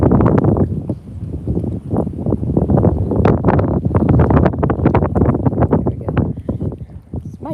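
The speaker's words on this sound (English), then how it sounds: "the wind is blowing today, as you can see" Outdoors during a fishing trip, gusting wind buffets the microphone with loud, uneven rumbling bursts that carry on for several seconds.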